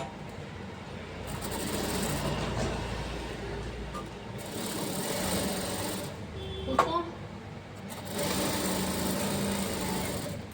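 A sewing machine stitches an elastic frock with a half-inch margin, running in steady bursts with short pauses between runs and a brief clack midway, close and fairly loud.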